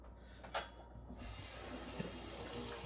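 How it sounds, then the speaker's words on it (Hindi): Tap water runs into a sink for washing dishes, starting with a few faint clinks and then turning into a steady broadband rush that continues close by with a small knock, no talk. "चलो भाई मैं लगाऊँ बर्तन धोने"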